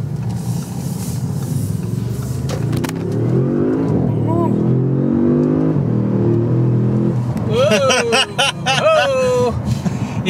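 Tuned Audi S6 with a Stage 1+ tune accelerating hard, a loud rising engine roar heard from inside the cabin as people talk and laugh over it.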